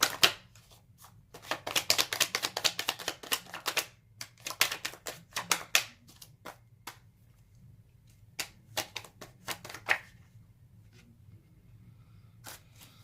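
Tarot cards being shuffled in rapid riffling bursts of crisp slaps and flutters, then sparser single card snaps, close and clear with quiet gaps and no speech.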